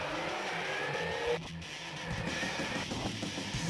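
A car engine in the Jackass DS video game holds a steady, loud drone, dipping briefly midway before resuming its continuous roar, with no talk over it.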